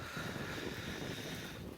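Morning wind on the coast beside a tidal sandbank, heard as a steady, rushing roar buffeting the microphone with no pause.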